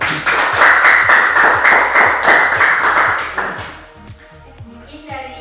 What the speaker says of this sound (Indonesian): Baik, kita tepuk tangan dulu.